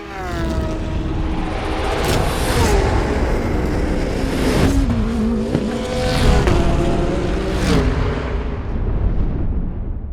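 A race car roars past with screaming, shifting engine pitch layered with added punchy sound effects and booming hits, loud and continuous for about ten seconds with no talking.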